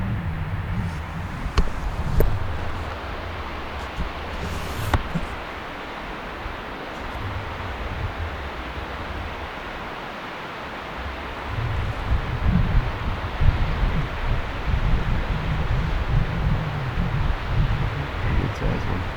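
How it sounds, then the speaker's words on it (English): Wind gusts up a wild backcountry hillside in a steady, full-bodied roar that buffets the microphone, easing for a moment midway before swelling again, with no voices heard. "The wind's just boosting up this hill."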